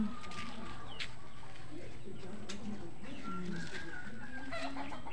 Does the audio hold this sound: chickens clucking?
yes